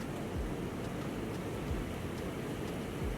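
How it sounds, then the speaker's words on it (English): Steady rain falling outdoors during a thunderstorm, a soft even hiss with occasional faint low rumbles, heard alone at moderate distance. "do you guys see the rain outside? It's a thunderstorm."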